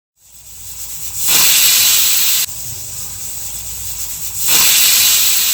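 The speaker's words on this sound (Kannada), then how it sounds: "ಇವಾಗ ಮುಚ್ಚಳನ ಮುಚ್ಚಿ ಒಂದು ಎರಡು ವಿಸಿಲ್ ಕೂಗಿಸ್ಕೋಬೇಕಾಗುತ್ತೆ" A pressure cooker cooking tomato bath lets out loud, steady steam hissing that surges and eases in stages over several seconds, close by with no talk.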